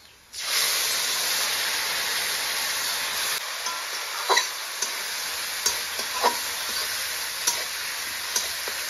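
Meat frying with tomato paste in a pan gives a steady broadband sizzle that starts sharply, with occasional scrapes and clicks of stirring over the constant hiss.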